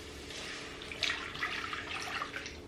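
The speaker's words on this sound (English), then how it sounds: "Let's pour that water back in here." Onion water is poured back into a pan holding a roux for mac and cheese sauce. A steady, close splashing pour is heard throughout, with no talking.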